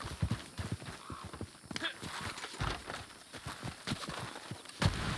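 Horse hooves walking in the video game Red Dead Redemption 2, a steady clip-clop of clear hoof beats close by, with faint game ambience underneath.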